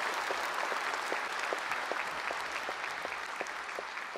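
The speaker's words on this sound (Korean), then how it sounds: "경축 공연 해주신 여러분께 뜨거운 박수 부탁드립니다." Audience applause follows a celebratory stage performance at a Liberation Day ceremony, with dense, steady clapping from a large crowd that holds for several seconds without fading.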